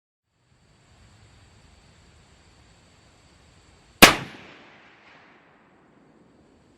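An M1917 Eddystone rifle fires one shot of a cast-bullet load with Lyman 311-334 bullets over IMR 4350 powder. The single loud, sharp crack rings out at an outdoor range and trails off in a short echo after quiet.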